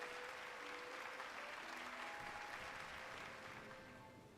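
Crowd applause in the video game Hollow Knight, a dense wash of many hands clapping at an even level that slowly fades toward the end, with faint tonal music beneath.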